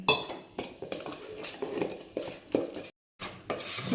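A utensil scrapes and clinks around a bowl in repeated stirring strokes, mixing thick batter for chilli gobi, close and fairly quiet, with a brief pause near the end.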